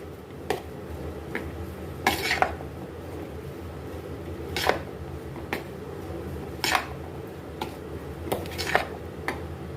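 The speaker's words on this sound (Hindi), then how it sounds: "अब इसको हमने मिक्स कर लेना है।" A spoon stirs chana chaat with green chutney in a bowl, producing scattered metallic clinks and scrapes against the dish at irregular intervals, fairly quiet over a soft background hiss with no talking.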